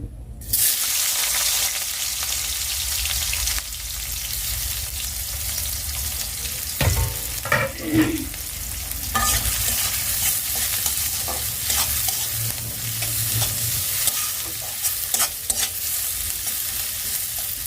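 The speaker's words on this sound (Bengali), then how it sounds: "আমি ডিমটা ভুনা করার জন্য ওই তেলেই আর একটু তেলটা দিয়ে দিলাম" Eggs frying in a pan of hot oil for a bhuna, a continuous close sizzle with intermittent scraping and stirring strokes from a spatula over about seventeen seconds, with no speech.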